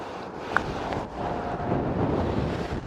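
Wind buffeting a microphone on a golf course putting green, a steady rushing blow with a faint click, no talk.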